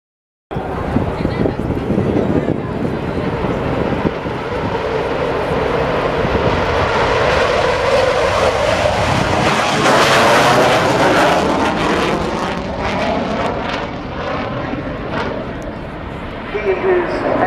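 A fixed-wing military jet from Tactical Air Force Wing 74 displays at the Royal International Air Tattoo air show, its engine roar loud and sustained throughout, swelling with a passing whoosh mid-way, with faint crowd babble beneath.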